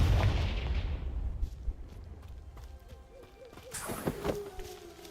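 A Confringo fire spell blasts out in the Hogwarts Legacy video game, a loud burst at the start fading into rumbling combat noise, with sharper impacts and crackles near the end.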